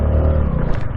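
A Honda Navi 110cc motorcycle engine held on a two-step launch limiter in a parking lot, a steady loud buzzing rev that stays level for about a second with slight stuttering.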